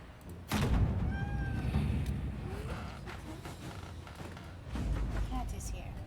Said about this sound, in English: Cat is here.